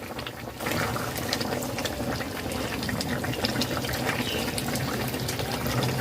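A curry with fried potatoes boiling hard on a high flame gives a dense, steady bubbling and churning that runs loud and unbroken throughout.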